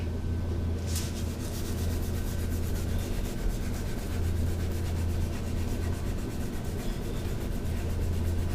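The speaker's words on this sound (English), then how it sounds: "Regular rubbing alcohol on a toothbrush." A toothbrush dipped in rubbing alcohol scrubs the neck of a USA-made Carvin Strat guitar, a steady, continuous close rubbing and brushing sound with no pauses.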